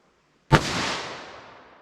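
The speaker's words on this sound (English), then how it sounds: "So our 110 grain 357 mag from a 2-inch barrel." A single sharp report from a .357 Magnum snub-nose revolver with a 2-inch barrel firing a 110-grain round, one close, loud crack followed by a long fading outdoor echo.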